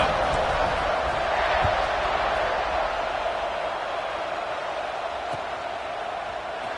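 Arkansas football stadium crowd roaring before kickoff, a dense, steady roar of cheering that holds throughout with no break.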